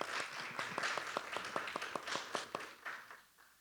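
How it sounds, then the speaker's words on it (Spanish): Audience applause at a university dialogue panel on education: a burst of many hands clapping with sharp, dense claps that swell and then fade out over a few seconds, with no talk over it. "Un aplauso también, por favor, para el doctor Carlos."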